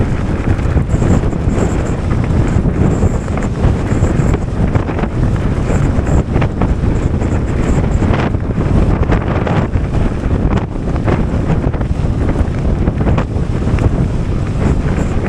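Strong gusty wind batters the microphone of a Wooken e-bike ridden through bad weather, producing a loud, continuous rumbling roar with rapid buffeting pulses throughout.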